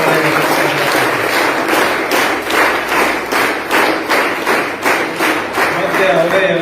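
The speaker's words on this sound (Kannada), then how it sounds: "ಅವರಿಗೆ ನಾವು ಒಂದು ಜೋರಾಗಿ ಚಪ್ಪಾಳೆ" An audience at a Guru Purnima gathering bursts into loud, sustained applause, many hands clapping in a dense, rhythmic wash that carries on steadily to the end.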